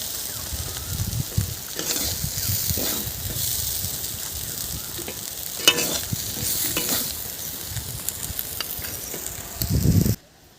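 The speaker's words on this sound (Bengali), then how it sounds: "তো দেখুন বন্ধুরা, আমার ডিমের শাক ভাজা হয়ে গেছে" Gime shak greens fry in a pan while being stirred, a steady sizzle broken by repeated scraping strokes of the spatula, close and clear, ending with a louder burst before stopping.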